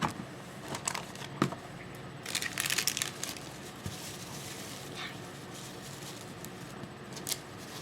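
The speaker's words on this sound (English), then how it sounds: "They come in a little plastic bag like this, wrapped in some cellophane." Plastic bag and cellophane wrapping around a Swamp Thing toy crinkle and crush in close handling, in irregular rustling bursts with a denser crackle midway, no talking.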